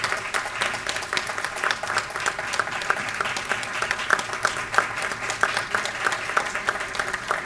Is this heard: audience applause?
yes